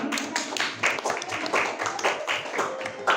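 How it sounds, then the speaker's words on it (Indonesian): A sixth-grade class claps for a student group, quick rhythmic handclaps from many pupils in a room, with voices mixed in. "tepuk tangan untuk kelompok"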